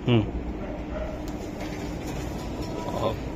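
Racing pigeons from a club loft give a brief low coo near the start, then a soft steady background hum with faint indistinct sounds.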